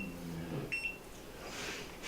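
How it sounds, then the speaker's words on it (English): A kitchen timer gives a few short, faint electronic beeps while it is set in a home kitchen during cooking, with quiet room noise between the chirps. "Let's set this timer for"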